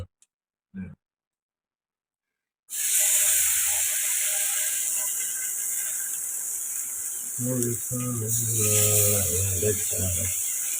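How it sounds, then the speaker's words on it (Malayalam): Fish dropped into hot oil in a pan erupts into a loud, steady sizzling hiss after a near-silent pause, frying on continuously while a person speaks over it. "ഇതെടുത്ത് നമ്മുടെ മീൻ എടുത്ത് പോയത് ഇട്ട് കൊടുക്കാം"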